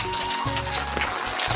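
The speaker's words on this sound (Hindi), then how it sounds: "और बारिश भी लगातार हो ही रही है" Steady monsoon rain falling over fields in the rainy season, a dense continuous hiss close by with a low rumbling hum beneath it.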